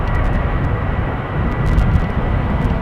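A jet airliner departing on runway 36L at Amsterdam Schiphol gives a loud, continuous broadband engine roar, steady and sustained throughout, with no voices present.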